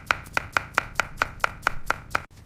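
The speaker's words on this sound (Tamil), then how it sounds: "சின்ன சின்ன துண்டுகளாக நறுக்கி கொள்ளுங்கள்" Nine or ten quick, evenly spaced knife chops on a cutting board cutting fruit such as banana into small pieces, crisp and close, with no talking.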